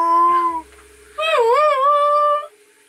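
A person on a sailing boat imitates a whale call with long, loud, wavering tonal howls, one sustained cry then a brief pause and a second sliding, swooping call, close to the microphone.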